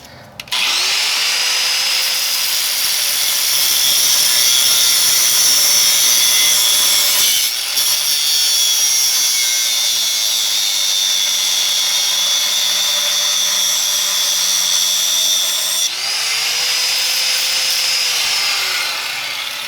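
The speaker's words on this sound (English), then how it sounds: "the top of the bolt rounded off, so I'm gonna have to cut the head off and then remove the bolt from the top" A power cutting tool grinds steadily and loudly through the rounded-off head of a steel control arm bolt on a 1998 Chrysler Cirrus, a continuous close whine with two brief breaks where the pitch dips and recovers.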